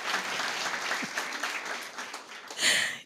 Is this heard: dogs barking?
no